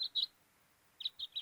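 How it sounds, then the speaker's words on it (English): A house finch call played back from a bird website: short, bright chirps, two at the start and three after a brief pause, clear and fairly near with no talking. "That's the sound of the house finch."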